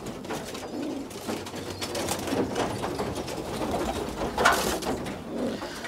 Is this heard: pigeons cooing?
yes